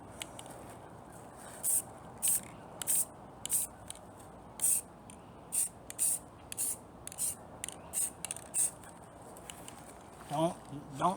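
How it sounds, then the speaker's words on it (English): Walnut-colour stain misted from a spray can in repeated short hisses, about a dozen bursts spaced roughly every half second to a second, fairly close, with a brief voice near the end. "Don't spray it hard and heavy or you're gonna have orange track"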